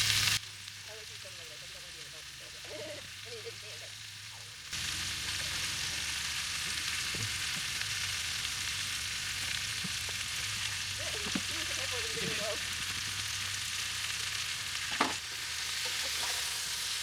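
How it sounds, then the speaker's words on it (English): Onions, peppers and potatoes frying in avocado oil in a pan at a family camping trip, a steady soft sizzle with occasional stirring scrapes, faint voices in the background. "So in this pan I have a little bit of avocado oil with some onions and peppers"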